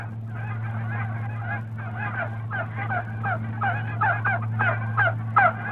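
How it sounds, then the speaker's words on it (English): A flock of geese honks repeatedly in overlapping calls over a steady low hum, the honking building and growing louder toward the end. "And there were geese."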